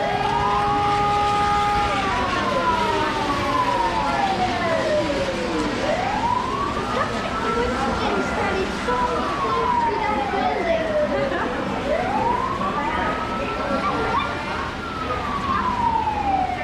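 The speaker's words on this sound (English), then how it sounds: "There comes the fire truck now on the building." A wailing siren rises and falls in long, repeating sweeps from an animated fire truck on a model train layout, the Choo Choo Barn in Strasburg, Pennsylvania. It stays loud and close, with a murmur of onlookers underneath.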